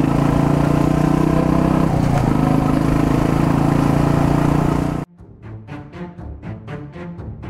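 A Royal Enfield Classic 350 single-cylinder motorcycle, repainted, puts out a loud, steady exhaust thump close by for about five seconds, then cuts off to leave quieter, sparse clatter.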